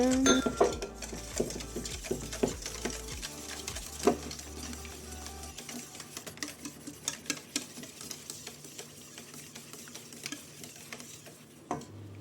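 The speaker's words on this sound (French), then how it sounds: "Ajoute le beurre fondu et on continue. On toutouille et on toutouille." Spoon stirring apple cake batter in a bowl right after melted butter goes in, a dense run of rapid scraping and clinking strokes up close, with a low hum in the first few seconds and no talking.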